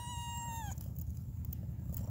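A cat in a home with kittens lets out one clear, drawn-out meow that slides downward in pitch and then stops, leaving a low, steady rumble in the background.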